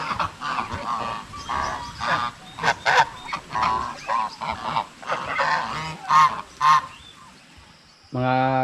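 Farmyard geese honk loudly and repeatedly in close, irregular bursts, the harsh calls overlapping at times, with a brief louder noise at the end.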